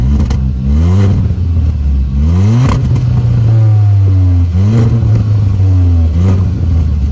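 A car engine revs loudly up and down through its exhaust, rising and falling in repeated pulls and dips close by, with no talking over it.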